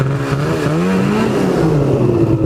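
A snowmobile engine stuck in a snow hole revs hard and continuously, its loud, close drone rising and falling in pitch with no talking.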